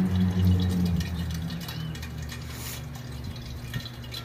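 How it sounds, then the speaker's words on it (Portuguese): A small homemade water fountain trickles and splashes in a continuous gentle fall of water, steady close bubbling with a low pump hum underneath. "um barulhinho bem gostoso aí de quedinha de água"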